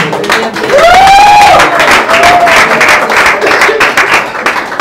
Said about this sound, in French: Si on peut encore une fois applaudir très très fort pour nos élus.